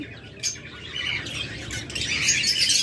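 A pair of split blue opaline pet birds, B2 split blue, call and chirp in short bright bursts close by, growing busier and louder toward the end, with no talk over them.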